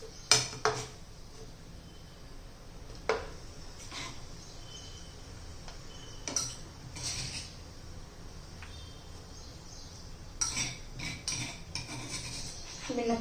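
Chutney pounded in a stone mortar scraped out onto a plate, giving sporadic clinks and scrapes of a spoon against stone and a plate, close and fairly quiet with pauses between strokes.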